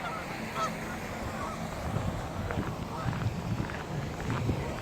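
A huge flock of geese honks continuously outdoors near a capitol building, a dense, steady clamor of overlapping calls with some nearby movement mixed in.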